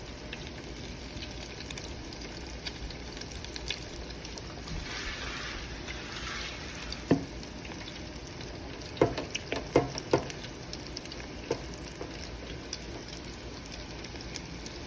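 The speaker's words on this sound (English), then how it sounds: "it's gonna fry up pretty quick, get brown quick" Crab croquettes fry in hot oil with a steady, close sizzle throughout, broken by a few sharp pops and taps of a utensil.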